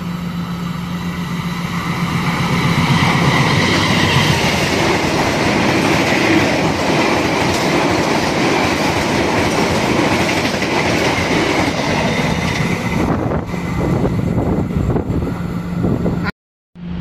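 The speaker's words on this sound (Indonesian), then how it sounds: "Kita tunggu aja ya kereta api Jakatingkir melintas langsung di stasiun Wajo teman-teman" A passenger train, the Jakatingkir, roars straight through Wajo station close by, loud rumbling with rhythmic clickety-clack of wheels over rail joints, fading before a sudden cutoff near the end.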